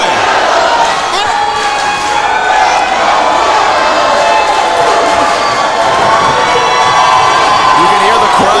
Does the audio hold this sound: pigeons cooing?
no